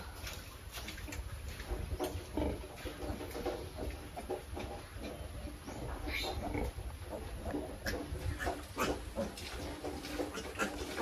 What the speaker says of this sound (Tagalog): At makita naman ninyo yung baboy natin. Mataba talaga yung mga inahing baboy natin.